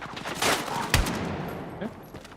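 Shotgun fire in a video game: a sharp, loud blast near the middle of the clip, set among other rapid gunfire-like bursts in a busy game mix.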